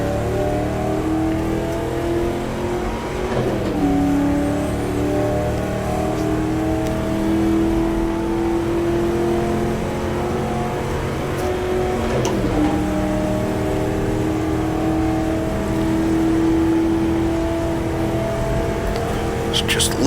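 A 1960s race car engine drones steadily in the GTR2 racing game at the 1966 Daytona 24 Hours, holding a sustained whine with brief dips at gear changes, loud and continuous throughout.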